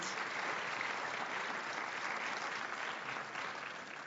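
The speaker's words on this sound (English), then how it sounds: "Let's give him another round of applause." An audience at a Martin Luther King Jr. birthday celebration gives another round of applause, a dense, even wash of clapping sustained throughout and easing slightly at the end.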